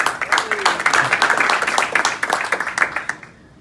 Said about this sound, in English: big round of applause for Gabriel Rosado.